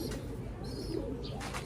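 A small pigeon coos softly and briefly, a few low, muffled notes against a quiet, noisy background.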